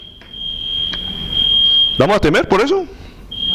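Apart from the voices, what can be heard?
smoke alarm beeping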